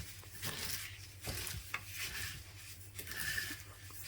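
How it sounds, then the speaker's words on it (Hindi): Vermicelli being mixed with ghee and yellow food colour by gloved hand, soft close rustling and rubbing strokes in uneven bursts over a faint steady background. "और फिर अच्छी तरह से सेवियों को ऐसे मिक्स कर लेना है"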